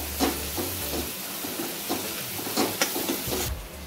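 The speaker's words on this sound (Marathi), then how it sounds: "त्याच्यामध्ये लाल मसाला, हळद टाकून चांगलं फ्राय करून घ्यायचा कांदा" Onion frying in a pan with red masala and turmeric gives a steady hiss and sizzle, broken by a few soft stirring scrapes and pops, fairly close and without speech.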